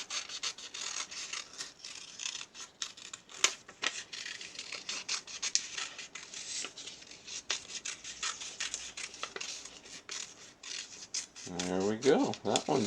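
Scissors snip through colored paper being cut out for a first-grade organic collage, a steady run of soft rasping cuts and rustles, close and fairly quiet, ending with a brief voice.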